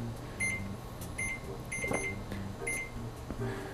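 An Instant Pot timer is set for pasta, giving a series of short, faint electronic beeps at a steady pace over a low kitchen hum.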